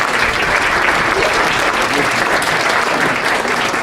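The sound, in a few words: audience applause for presenters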